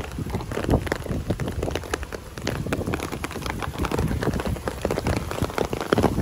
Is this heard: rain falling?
yes